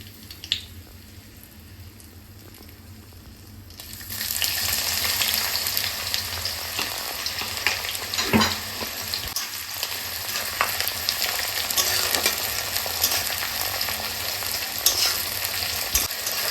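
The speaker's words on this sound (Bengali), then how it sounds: "খানিকক্ষণ এখন পেঁয়াজটা লাল লাল করে ভেজে নেব।" Onions drop into hot oil for mutton curry and burst into a loud sizzle after a quieter start, then keep frying steadily with stirring scrapes and crackles, close and without voices.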